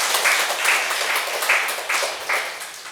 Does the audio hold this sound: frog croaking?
no